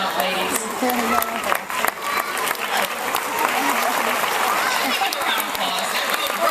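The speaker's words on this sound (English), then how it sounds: "round of applause" An audience at the St. Louis Zoo sea lion show claps for the performing sea lions, a brisk, fairly loud patter of applause with scattered voices mixed in, continuing steadily.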